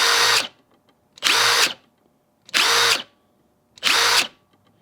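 DeWalt DCF887 and Milwaukee 2857 impact drivers run at high speed in four loud, even bursts, each about a second long, and each one brakes to a quick stop. Short silent gaps separate the bursts, and no one speaks.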